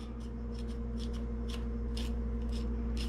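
Ginger scraped with the back of a spoon, giving a regular series of short raspy scrapes, roughly two per second, over a steady low kitchen hum.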